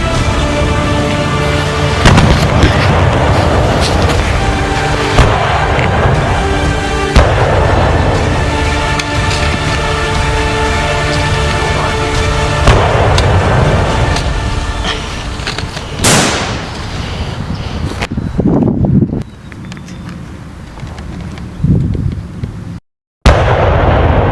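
A sustained barrage of deep booming artillery explosions rolls on in overlapping bursts during a science-fiction space battle, loud and dense before tapering into a few scattered, fading blasts.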